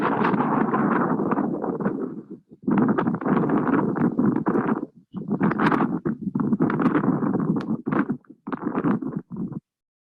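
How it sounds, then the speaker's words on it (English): Strong gusty wind buffets the microphone in loud rumbling bursts, broken by brief lulls. "It's kind of windy here"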